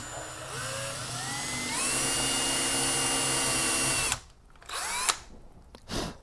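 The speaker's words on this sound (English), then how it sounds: "Oh, I drilled almost a perfect hole." A power drill bores a hole through a homemade snake wake bait with a steady, loud whine that rises in pitch for about four seconds, then cuts out, followed by a couple of brief handling noises.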